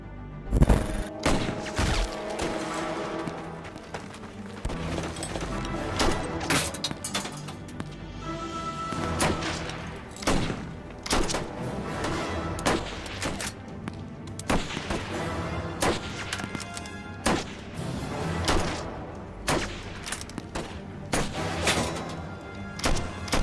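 Battle gunfire from a firefight between American troops and German SS soldiers, with dense, continuous bursts of shots and booming impacts layered over a loud, busy sound-effects backdrop.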